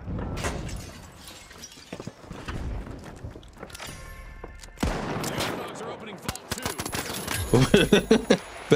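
Gunfire from the online shooter The Finals, played on PC, with sharp bursts and shattering impacts scattered through busy game noise, turning into a rapid, loud volley of shots near the end.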